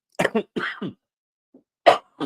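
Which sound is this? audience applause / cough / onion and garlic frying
cough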